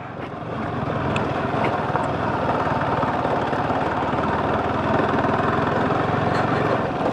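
A TVS Apache 180 motorcycle rides past on an offroad route near the Savalanga windmills in Shimoga, its engine a steady, loud buzzing drone that swells slightly and holds close throughout.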